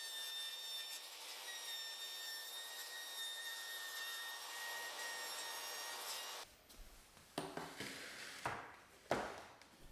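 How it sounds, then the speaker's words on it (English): A table saw is running steadily with a high whine while freehand cutting a baseboard, followed by a lower, rougher stretch of irregular scraping and knocking bursts as the board is fed and handled. "I kind of freehand cut the board on the table saw"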